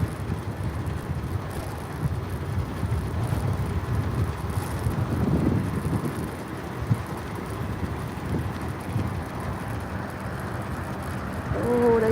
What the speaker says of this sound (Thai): แต่ลมแรงค่ะทุกคน